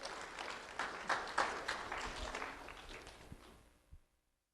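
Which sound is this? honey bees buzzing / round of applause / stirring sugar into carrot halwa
round of applause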